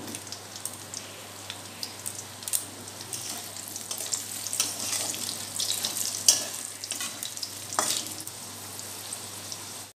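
Potato pieces fry in hot oil with bay leaf and a split dried red chilli, giving a steady, close sizzle with crackling pops and stirring scrapes for about ten seconds. No one speaks over it.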